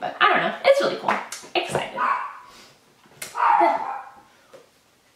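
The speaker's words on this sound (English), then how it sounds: "That's my dog." A pet dog indoors gives a few sharp barks and yips, then a whimper after a pause, close by, while someone talks over and between the sounds.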